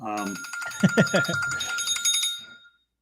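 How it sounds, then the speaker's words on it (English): A mobile phone rings with a bright, repeating electronic tone that carries on for a few seconds beneath a man's speech, then cuts off. "I forgot to silence my phone"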